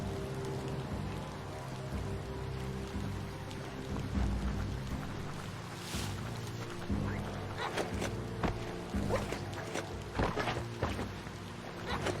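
Steady rain pours down in the video game Biomutant, a dense continuous hiss with scattered heavier drops and low rumbles, close and fairly loud throughout with no talk.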